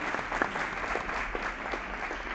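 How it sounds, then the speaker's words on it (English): Audience applause fills the hall at a school award ceremony, a steady wash of clapping from a crowd heard at moderate distance, continuous for the whole moment. "Give them a round of applause."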